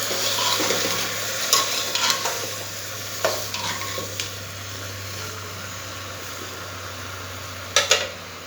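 Spices with turmeric powder are stirred in a frying pan, a soft steady sizzle under scattered scraping and clinking spoon strikes against the pan, with a low fan hum throughout.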